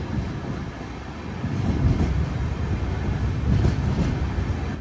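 An express sleeper train runs on the rails through Gujarat, heard from inside the coach as a loud, steady rumble that swells slightly midway, with faint rhythmic wheel clatter and no talk.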